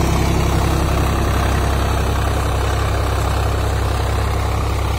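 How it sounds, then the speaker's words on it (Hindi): A Swaraj 744 XT tractor engine idles steadily, a close, constant low diesel rumble with a fast even beat that holds unchanged for the whole stretch, with no voices over it. "स्वराज का 744 एक्सी ट्रैक्टर।"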